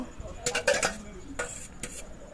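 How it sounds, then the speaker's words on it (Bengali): Egg potato curry goes from a pan into a serving bowl as a spoon clinks and scrapes against the metal in a few quick bursts, close and fairly loud, with a quiet room behind. "ডিম আলুর তরকারি একটি পাত্রে ঢেলে নেব।"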